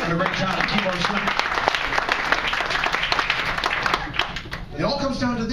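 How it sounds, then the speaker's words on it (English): A comedy cabaret audience breaks into a round of applause with cheering voices, loud and lively throughout, then thinning toward the end as a voice and stage sounds come in. "Have a nice round of applause, Mr. Chad Dunn, did a great job of keyboard"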